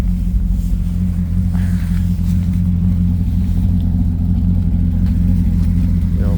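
A 2006 C6 Corvette widebody idles with a deep, steady, loud rumble, its engine running close by for several seconds with only slight variation and no clear revs.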